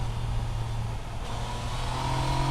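Steady mid-pitched engine drone from a Yamaha Niken GT three-wheeled motorcycle on its stock exhaust, running continuously at fairly constant revs with a slight rise near the end, close and alone.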